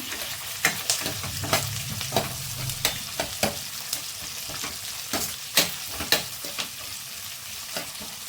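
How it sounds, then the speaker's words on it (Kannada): Chopped onions with cumin and curry leaves stirred in a frying pan for an Andhra-style cucumber curry: a soft, steady sizzle under repeated sharp scrapes and taps of a spoon against the pan. "ಈಗ ಇದಕ್ಕೆ ಒಂದು 2 ಈರುಳ್ಳಿನ ಕಟ್ ಮಾಡಿ ಸೇರಿಸ್ಕೊತಾ ಇದ್ದೀನಿ. ಈಗ ಮಿಕ್ಸ್ ಮಾಡ್ಕೊಳ್ಳೋಣ."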